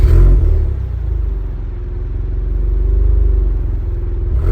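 A 2024 Subaru WRX with a manual gearbox pulls away, its engine a loud, steady low rumble close by that swells slightly as the car sets off, with no talking over it.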